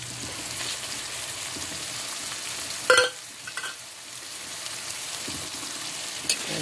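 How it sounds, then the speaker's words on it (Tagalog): Sautéed vegetables with San Marino tuna being stirred in a hot pan, a steady close sizzle broken by a sharp utensil clink and a few scraping strokes, no talk. "Haluin natin. Lagyan na natin ang San Marino tuna."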